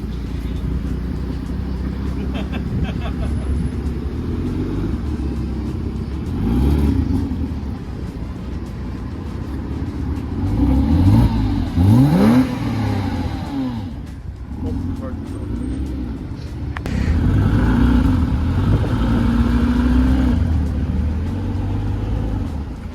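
A rough, blown engine in a tuned widebody car rumbles and revs in uneven bursts, rising and falling, with people talking over it.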